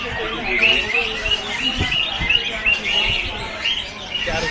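Caged birds, pigeons and parrots among them, chirp and tweet busily at Crawford Market in Mumbai, a dense overlapping chatter of high calls with market voices and bustle beneath.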